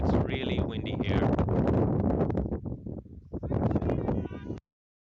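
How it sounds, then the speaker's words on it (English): Strong wind outdoors at an amateur cricket match buffets the microphone with loud, continuous roaring gusts that briefly ease midway, then cut off abruptly. "It's really windy here."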